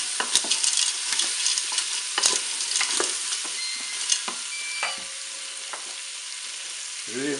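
Chorizo and tagliatelle stirred in a Cookeo cooker, a loud steady sizzle broken by repeated close scrapes and clinks of the utensil against the pot, with no talking.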